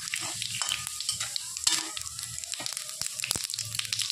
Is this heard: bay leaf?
yes